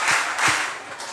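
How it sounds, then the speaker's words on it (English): Audience clapping for a student in a classroom talk, a short burst of applause with a few distinct claps standing out, fairly close and without talk. "Clap for her."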